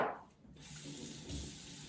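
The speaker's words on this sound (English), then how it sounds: "I have a little ice water here, and I'm just going to put it in the water." Onions dropped into a bowl of ice water, a brief splash followed by a steady watery wash, close and alone.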